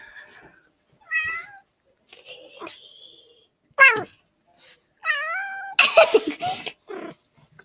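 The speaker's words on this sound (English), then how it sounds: "I'll also show you That cat her name is Minnie." House cat meowing indoors during a home tour, several separate meows of varying pitch spread across the clip, fairly close and moderately loud, with a brief burst of broadband noise near the end and no speech over them.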